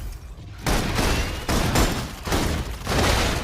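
Sustained suppression gunfire in the video game Love and Deepspace, loud dense bursts of shots that start after a brief quieter lead-in and continue with short dips between volleys.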